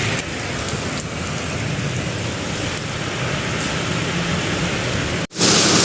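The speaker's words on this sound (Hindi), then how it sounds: "ये देखिए बारिश हो रही है और स्पीड के साथ।" Heavy, fast rain with hail pours down in a village, a loud, dense, continuous hiss of drops striking surfaces that drops out briefly near the end, with no voices.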